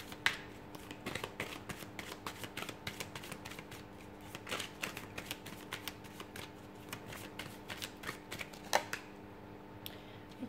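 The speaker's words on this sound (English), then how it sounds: "So I'll give the cards a shuffle" Tarot cards being shuffled close by, a soft, continuous riffle of quick papery clicks and flutters in a quiet room.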